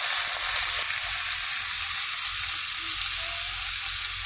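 Pomfret fish frying in a pan with eggplant and potato, giving a steady, close, loud sizzle that holds evenly throughout with no talking.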